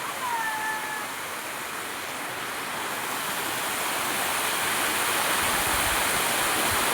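Water rushing down a stream near a waterfall, a continuous loud hiss and roar that swells slightly toward the end, with no voices.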